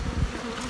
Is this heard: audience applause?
no